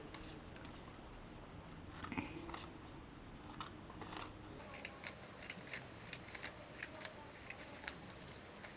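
Scissors snip paper while a doll design is cut out, giving a series of short, quiet crisp clicks and snips that come faster toward the end against a faint background hiss.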